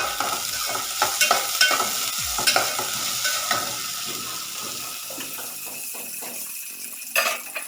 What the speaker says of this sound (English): Put potato and mix it well.